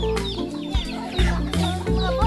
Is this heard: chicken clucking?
yes